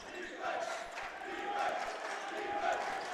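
A crowd fills the gym at a high school basketball game, producing a dense murmur of voices and scattered shouts that swell and ease over a few seconds, with a commentator speaking over it.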